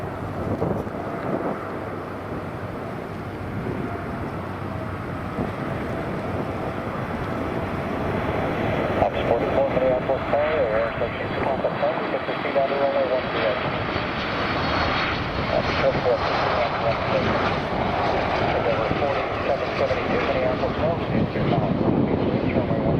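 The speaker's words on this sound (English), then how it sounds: "UPS 747-8F go around after touchdown." A UPS Boeing 747-8F cargo jet going around after touching down on a runway: loud, sustained roaring engine noise that swells partway through and stays strong, with wind buffeting the microphone.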